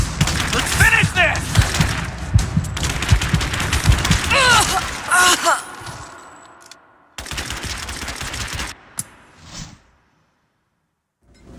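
Bursts of gunfire fill a Rise of the Tomb Raider firefight, with dense rapid volleys and sharp cracks at close range, broken by short pauses and a quieter stretch before a final burst fades into near silence.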